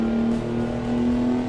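Steady, loud droning hum of a 12V71T diesel truck engine in American Truck Simulator, holding one even, buzzing pitch at constant revs, close and uninterrupted.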